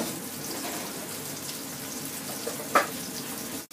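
Mushrooms and pumpkin frying together in a pan, giving a steady, even sizzle throughout with one brief clatter near the end and no voices.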